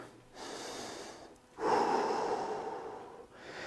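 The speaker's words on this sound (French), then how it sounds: "On respire." Heavy breathing after exercise during a live workout break, with two long, loud, rasping exhales that follow each other closely and sound close to the microphone.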